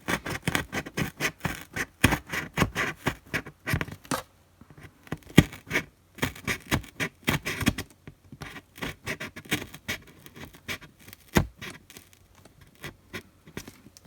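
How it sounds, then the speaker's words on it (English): An X-Acto knife cuts straight down through craft material, making a dense run of close scratchy, crackling cuts in quick bursts with short pauses between. "So I'm just cutting straight down. I'm using an X-Acto knife to do this"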